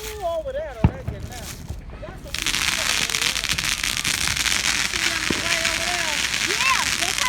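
Fourth of July fireworks go off nearby, starting with a sharp pop and whistles, then a dense, continuous crackling that fills the air, with people talking and shouting over it.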